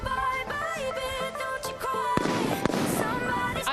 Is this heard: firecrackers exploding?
yes